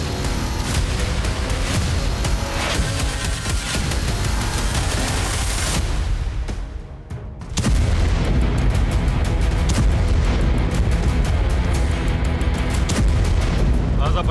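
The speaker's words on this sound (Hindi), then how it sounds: "गाजा पट्टी का इलाका प्रचंड बम गोला बारूद के प्रहार से दहल रहा है।" Bombs and artillery shells pound Gaza in a dense, continuous roar of booming blasts that briefly thins and dips near the middle, then surges back loud and heavy.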